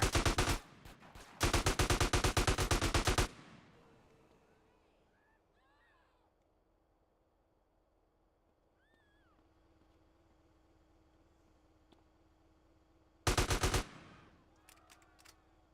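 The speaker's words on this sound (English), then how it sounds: "there's a dude standing there shooting at you. Shoot back." Bursts of rapid automatic gunfire in GTA San Andreas, two long loud volleys near the start, then a quiet stretch with faint game sounds, then another short sharp burst near the end.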